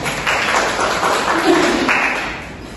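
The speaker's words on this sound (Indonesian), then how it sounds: "Mas tepuk tangan dulu." Students clap in a classroom during a ninth-grade lesson on globalization, a short burst of scattered hands under murmuring voices.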